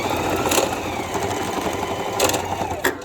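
A sewing machine runs a straight stitch while a one-piece garment is sewn, a steady close mechanical whirr lasting a few seconds with brief louder bursts.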